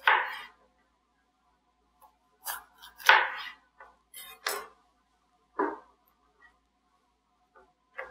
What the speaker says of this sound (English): I'm going to use my chef knife to make the cut. And to this cut we're going to do a julienne.